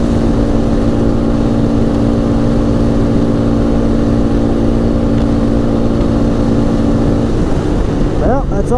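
A 2004 Polaris Scrambler 500 4x4 ATV engine drones steadily at full throttle for several seconds, then the pitch shifts and wavers near the end as it drops off.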